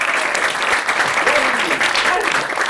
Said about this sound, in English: A round of applause for number 4 here.